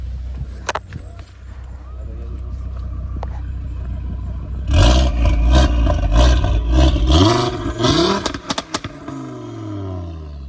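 An Audi RS3 in dynamic mode with its exhaust valves open, first a low idle rumble under faint talk, then loud, close revs roaring up and falling back in several sharp bursts.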